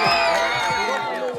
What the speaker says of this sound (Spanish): Los aplausos para la Alianza Negra